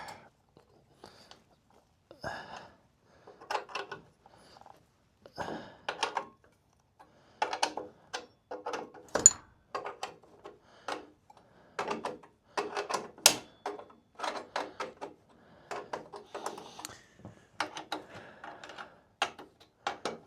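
A ratchet clicks in quick bursts while bolts on a chainsaw mill are loosened outdoors in a forest beside a cedar log, the ratcheting close and intermittent with brief pauses between runs.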